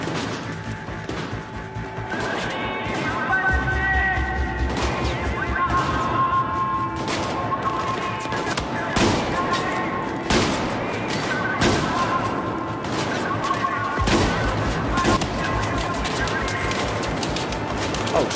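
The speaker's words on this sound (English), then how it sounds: "It's just a combat shotgun." Combat shotgun fire in Battlefield 4 during a prison-break mission, a string of sharp, loud cracks at irregular intervals over dense battle noise and crashing debris.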